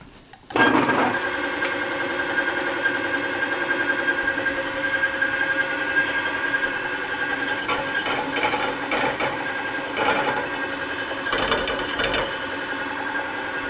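A small metal lathe runs steadily while threading a steel part, a constant mechanical hum with whining tones and occasional rattling bursts of cutting, close and loud without speech.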